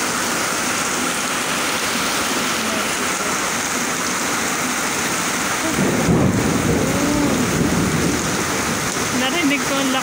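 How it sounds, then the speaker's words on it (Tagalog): Steady heavy afternoon rain in Tung Chung, Hong Kong hisses throughout, and around the six-second mark a deep rumble of thunder rolls in, loud and close, lingering to the end. "May kulog."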